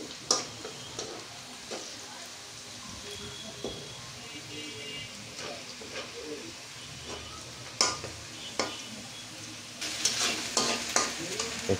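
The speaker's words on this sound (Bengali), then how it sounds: "এখানে পেঁয়াজ কুচিগুলো আস্তে আস্তে লাল রং ধারণ করতে মানে ভাজা হয়ে গেছে।" Chopped onions sizzle and fry in a pan for pigeon curry, with a steady crackle broken by repeated scraping and clinking strokes of a spoon stirring. The sizzle grows louder and busier toward the end.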